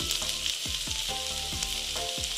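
Onion and chopped garlic sizzle in hot oil for a momo filling, a loud, steady frying hiss close by with faint intermittent knocks, and no voices.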